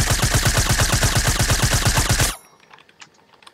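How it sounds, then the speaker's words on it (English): A suppressed machine gun in Fortnite fires a rapid, even burst of about two seconds, loud and close, then stops abruptly, leaving faint game ambience. "I gotta take this suppressed machine gun."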